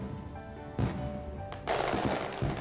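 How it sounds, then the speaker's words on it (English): Fireworks in a visual novel video game burst in a continuous rumbling crackle, with a couple of louder booms layered over a soft background music tone, at steady moderate volume and with no talking. "we watch the fireworks in the silence for a short while"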